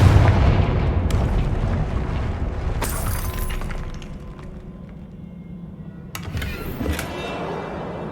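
A Confringo spell explosion in Hogwarts Legacy, a loud booming blast with rumbling low debris, followed by sharp bursts and crackles, then a second impact near the end.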